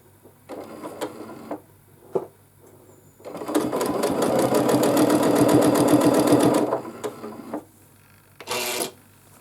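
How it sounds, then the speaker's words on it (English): A sewing machine stitching free-motion quilting with bold red thread runs in one sustained, fast, even burst of needle clatter lasting about three seconds, framed by short start-stop whirs and clicks of handling. "let's start quilting, and I started here in the middle of my little panel"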